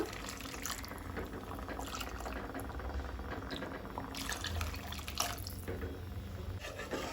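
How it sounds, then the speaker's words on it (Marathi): Coconut milk pouring into a pan holding semolina, salt and sugar for a Goan watermelon soji, a steady close liquid trickle and splash running throughout with small drips, no talk over it. "2 कप नाल्लाचो रोस घालता।"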